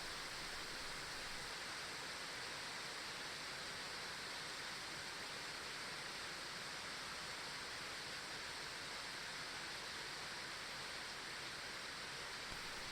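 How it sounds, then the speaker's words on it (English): Steady, even rainfall outside on a cold night, a dense constant hiss with no variation or distinct drops, heard alone without any voices. "Thanks to the constant rainfall, the noise outside feels soothing, causing your eyelids to droop."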